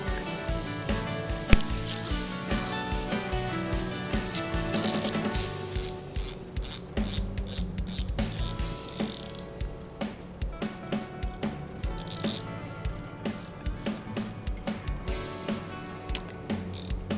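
A Daiwa RX LT 2020 spinning reel's drag clicks in rapid ratcheting bursts, speeding up and slowing as line pulls out, close and crisp with no talking.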